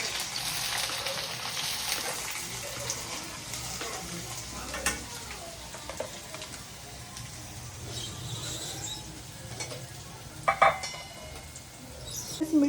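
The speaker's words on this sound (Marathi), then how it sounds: "कढीपत्त्याची आणि मोहरीची फोडणी दिल्यावर मी आता कांदा टाकते." Chopped onion sizzles steadily in hot oil over a curry leaf and mustard seed tempering, a continuous frying hiss with scattered clinks of stirring, a few sharp pops near the end, close by with no talking.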